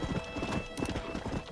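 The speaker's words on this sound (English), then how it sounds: "there's a horse over there we can..." Horse hooves clip-clop in Red Dead Redemption, a quick, steady run of close, crisp hoofbeats with a brief whinny-like tone over game ambience.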